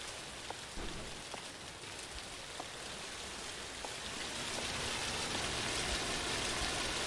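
Steady rain in the video game The Caregiver patters and hisses continuously, growing slightly louder over time, with faint scattered drips and light taps.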